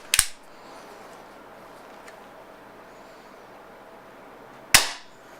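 Two sharp, loud cracks from a Beeman P1 .22 caliber air pistol, one at the very start and another near the end, separated by a stretch of quiet background hiss.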